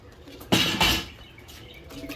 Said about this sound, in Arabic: ها هو الحمام الخوت